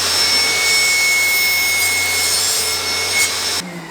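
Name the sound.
table saw crosscut sled cutting wood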